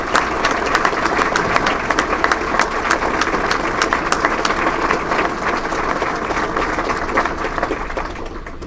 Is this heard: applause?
yes